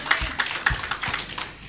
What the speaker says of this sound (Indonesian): Sekali lagi tepuk tangan bagi Tuhan kita.